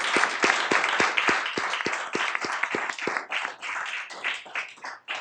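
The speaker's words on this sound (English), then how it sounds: "Now we can clap for all three winners." An audience at a city council meeting claps for three winners, with sharp distinct hand claps early on blending into a dense, steady round of applause that fades near the end.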